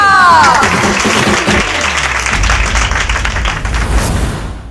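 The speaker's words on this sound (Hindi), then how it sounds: "तालियां!" Studio audience applause on a Hindi TV show, loud and sustained clapping from a crowd, with a brief musical sting at the start.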